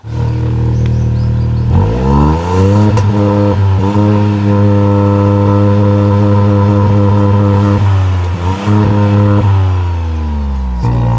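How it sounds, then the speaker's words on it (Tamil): A Tata Altroz Racer hatchback revs loudly and close by. The engine exhaust note holds a steady idle, then climbs through two or three sharp throttle blips and falls back each time, with no voices. "அண்ட் இந்த காரோட எக்ஸாஸ்ட் நோட் எப்படி இருக்குது அப்படின்னு நம்ம இப்போ பார்க்கலாம்."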